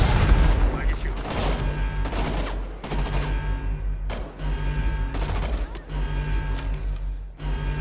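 Heavy combat blasts from the video game Homefront: The Revolution, including a grenade explosion among rapid bursts of gunfire. Loud, repeated booms and rattling volleys cut in and out in quick succession, with bits of speech underneath.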